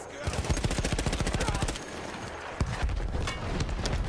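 Rapid machine gun bursts from Battlefield 1 play as dense, rhythmic strings of loud shots. A short pause breaks them near the middle, then more firing follows, with gameplay effects behind.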